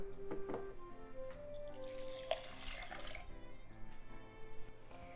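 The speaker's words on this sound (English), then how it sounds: "It's 2 cups of rice, so I'm adding 2 cups of water" Water pours and splashes steadily into two cups of rice for several seconds, close by and moderately loud, with a faint ringing tone and no talking.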